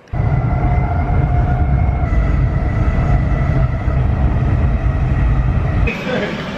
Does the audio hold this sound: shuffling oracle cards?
no